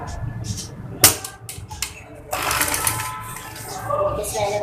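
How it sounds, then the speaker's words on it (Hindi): A sewing machine stitches fabric for a baby girl's designer kurti and trouser, its rapid mechanical chatter running in bursts with short pauses, close and fairly loud. "चलिए मैं आपको इसकी सिलाई लगा कर बताती हूँ।"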